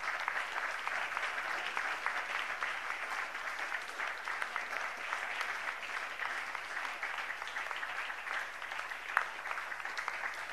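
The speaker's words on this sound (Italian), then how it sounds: "iniziare questo incontro con un applauso a tutte le compagne e i compagni" Steady applause from an audience at a political gathering in a social centre, many hands clapping evenly at moderate distance, fairly quiet, continuous, with no speech over it.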